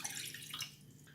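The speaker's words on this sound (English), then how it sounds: "we're going to add 1 cup of water" A cup of water poured into a pickling brine for pickled peppers, heard as a short, close splashing trickle lasting about a second.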